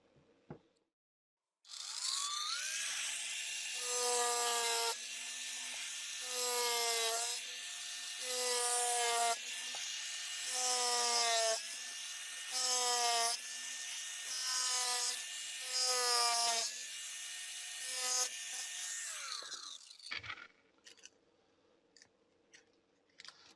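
Rhythmic rasping scrapes of a Parkside PES 250 A1 250W electric chisel scraper against wood, repeated strokes in a steady pattern over a motor hum, stopping abruptly near the end.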